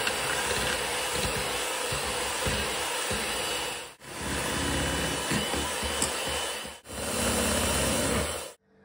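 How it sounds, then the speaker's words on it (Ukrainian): An electric hand mixer whipping red velvet cake batter with red gel colouring, a loud steady motor whir with rattling beater scrapes, cutting out briefly twice before running on and stopping at the end. "І добренько міксером зараз будемо все взбивати"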